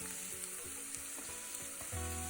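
Sliced onions hit hot coconut oil with popped mustard seeds in a pan, giving a steady, close sizzle and frying crackle with occasional stirring scrapes, no voices present.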